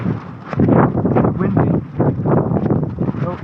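Strong gusts buffet the microphone at a windswept camp where an alcohol stove is being lit. The roar is loud and close and rises and falls in irregular waves.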